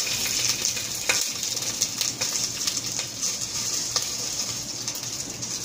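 A piece of chili fries in hot oil in a clay pot, giving a steady hiss with small pops and crackles throughout, moderately quiet and with no talking.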